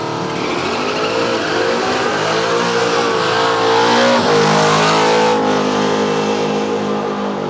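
A Ford Falcon Ute doing a big smoky burnout in a drag-racing event lane, engine roaring loud and steady at high revs with squealing, spinning tyres throughout, rising slightly midway.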